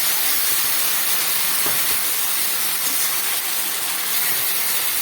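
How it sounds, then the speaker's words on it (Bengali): Water splashed into a hot pan of water spinach, hissing and sizzling steadily and loudly the whole time with no voices. "এবার আমি খুব সামান্য একটু জল দিয়ে দিচ্ছি।"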